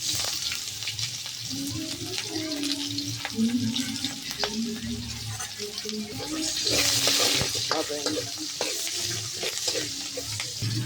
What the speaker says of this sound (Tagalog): Yung magigisa na tayo ng bawang, sibuyas